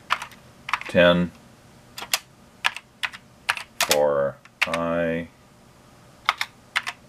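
Typing on the keyboard of a Briel Replica I, an Apple I computer clone: bursts of crisp, close keystrokes in short runs with pauses, while someone speaks at times between them.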